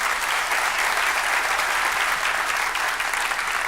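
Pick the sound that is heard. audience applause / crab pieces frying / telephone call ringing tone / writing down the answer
audience applause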